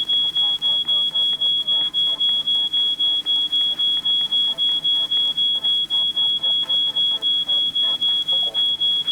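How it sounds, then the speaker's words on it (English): A smoke alarm in the video game She Could Fly, set off by burnt toast, beeps in a fast steady pulse with a constant high tone that runs through the whole stretch, loud and close, with faint game sounds underneath. "We need to do something about that alarm."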